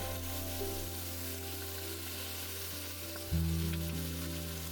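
Chicken wings fry in a pot heaped almost to overflowing, cooked inside a used camper van on a rainy trip. A close, steady sizzle runs throughout under a low, humming background, with a louder burst of frying near the end.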